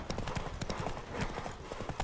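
The horse Roach gallops in The Witcher 3: Wild Hunt, its hooves drumming in a fast, steady clip-clop rhythm that fills the whole stretch, close and clear.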